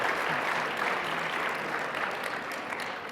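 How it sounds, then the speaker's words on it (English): A webinar panel audience claps continuously for about three seconds, a dense, even patter of applause at moderate volume, with no voices over it. "Let's give them a round of applause."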